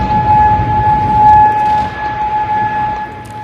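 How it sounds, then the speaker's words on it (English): A steady civil defense siren wails continuously in Kuwait during a missile alert, loud and sustained with a constant pitch over a low rumbling background. "sirens were heard across Kuwait."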